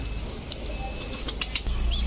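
Pigeons, sold as pairs of Pakistani high-flyer, racer and Sirazi breeds, flap their wings in short fluttering bursts close by, with faint chirps over a steady low background hum.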